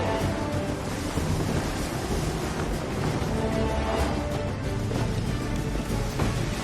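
Strong wind and rolling ocean waves at sea aboard a sailing ship in Assassin's Creed III, a steady full-band roar of gusts and surf that holds loud and unbroken throughout, with no voices.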